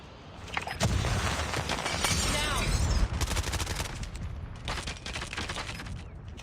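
Rapid gunfire bursts and sharp cracks from a Call of Duty Mobile match in a 5v5 bomb retake, dense and continuous with clustered volleys under a busy mix of game effects.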